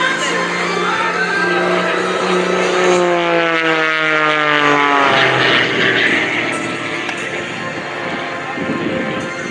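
Kirby Chambliss's Red Bull aerobatic airplane dives toward show center at the Great Texas Airshow, its loud propeller-engine drone sweeping downward in pitch as it passes close, with an announcer's voice over the roar.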